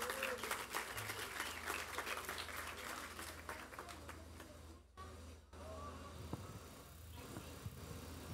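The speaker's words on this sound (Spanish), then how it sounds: "Un fuerte aplauso y bienvenida, doctora." An audience applauds to welcome a speaker at a talk in Costa Rica, a steady patter of many hands that thins out and fades partway through, leaving quieter room sound with a few scattered claps.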